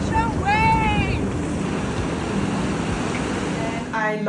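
Ocean surf on the Moroccan coast at surf spots such as Essaouira or Taghazout rolls as a continuous wash of waves with wind buffeting the microphone; brief voices are heard at the start and end.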